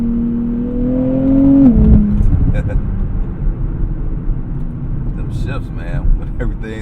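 A 2024 Nissan Z Nismo's engine drones steadily from inside the cabin on a sunset drive, then its pitch drops sharply as the revs fall. Someone talks over the lower engine hum afterward.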